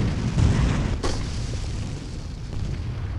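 Explosions in the video game Clive Barker's Undying: a deep, rumbling boom with a sharp crack near the start, then a sustained low roar that slowly fades, loud and close.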